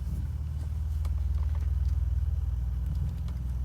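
A 1986 BMW E28 535i drives on a night test run, its engine a steady low rumbling drone heard from inside the car, with faint patter and light knocks over the top.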